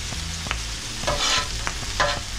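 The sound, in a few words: onions and peppers stirred on a griddle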